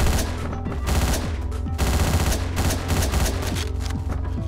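Rapid gunfire from the top-down action game Hotline Miami, dense bursts of shots layered over a loud, thumping music track, steady and continuous for the whole stretch with no talking.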